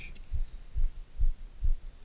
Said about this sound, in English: I feel like you can hear my heartbeat.